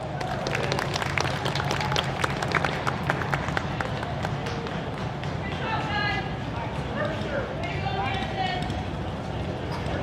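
Audience clapping at an outdoor car concours d'elegance award presentation, a steady dense wash of applause with some cheering, and a voice speaking briefly over it.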